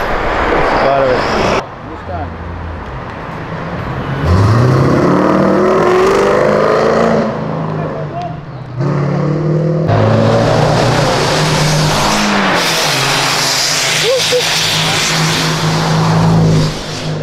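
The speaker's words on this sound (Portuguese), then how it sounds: "É o segundo carro que a gente grava fazendo esse barulho." A car engine revs hard and loud on a street, with rising pitch sweeps and a sharp cutoff between bursts, while people talk over it close to the microphone.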